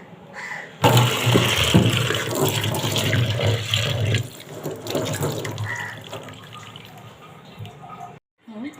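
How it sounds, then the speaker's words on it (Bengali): Water runs steadily from a tap for several seconds while a person talks over it, then the flow stops near the end. "এগুলো আমি একটু ধুয়ে নেব।"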